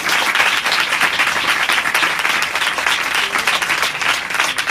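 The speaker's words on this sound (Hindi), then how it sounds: "बहुत कम तालियां दीजिए खुदावंद के कलाम के लिए" A church congregation claps together in loud, steady, sustained applause at close range, a dense even patter with no voices over it.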